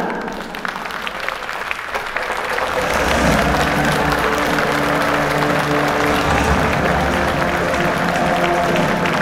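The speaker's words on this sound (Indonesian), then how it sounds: "Mari kita berikan tepuk tangan yang meriah." An audience at the opening of the 18th Muhammadiyah Youth congress breaks into loud, sustained applause that swells after a couple of seconds and holds, with a faint background voice and music-like tones underneath.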